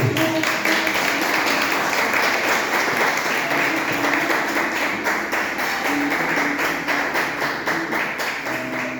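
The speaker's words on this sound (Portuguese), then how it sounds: "Quem pode aplaudir o Senhor Jesus?" A church congregation applauds at a Portuguese-language worship service, steady dense clapping from many hands filling the room throughout, loud and sustained with a few voices faintly mixed in.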